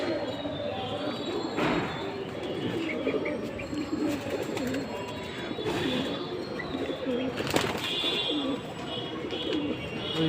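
Pigeons at a home loft, including a young bird whose wing feathers are growing in, give soft coos and flutters amid steady background noise, with a few sharper bursts along the way.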